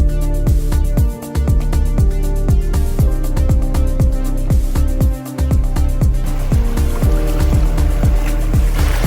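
A bamboo raft moves on a cold river, with loud, steady rhythmic knocking and thumping pulses repeating quickly over a constant wash of water that goes on throughout.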